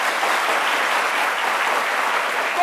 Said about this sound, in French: ça s'applaudit toujours